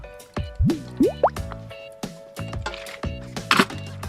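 Fish sauce goes in while a northern Thai baked chicken dish is being seasoned, making close liquid drips and plops mixed with light clinks and knocks of kitchenware, with no talking.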